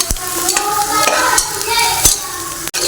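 Ginger-garlic paste, pounded in a stone mortar, sizzles in a pan while a spatula stirs it. Several distinct scraping strokes cut through the close, continuous frying hiss.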